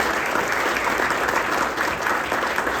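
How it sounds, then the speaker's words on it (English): A dedication-ceremony audience for a business school gives a steady, dense round of applause, loud and close, sustained evenly throughout with no talking over it. "Let's give them a quick round of applause."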